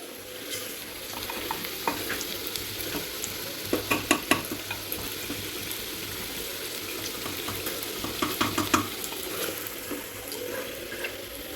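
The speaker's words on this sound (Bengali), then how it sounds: "মাটন কষা হচ্ছে।" Mutton being stirred and fried in a kadai while preparing biryani: a steady, fairly close sizzle runs throughout, with repeated scraping and clacking strokes of the spoon against the pan. No voices.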